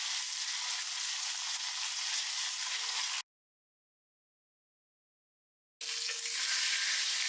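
Curry leaves hitting hot oil in a pan for tempering Kerala kalan give a loud, steady close sizzle that cuts out abruptly, falls silent for a couple of seconds, then resumes just as strongly.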